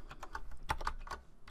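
Computer keyboard keys tapped in a short, irregular run of about eight distinct clicks, close and fairly quiet, with no speech.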